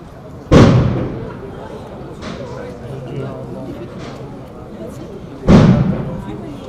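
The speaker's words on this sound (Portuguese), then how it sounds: "foi possível ouvir o barulho de disparos e explosões." Two heavy, booming blasts from gunshots and explosions during a police hostage rescue ring out several seconds apart, each with a sharp onset and a fading tail, over a low background rumble.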